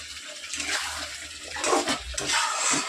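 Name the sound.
water poured into cooking chicken curry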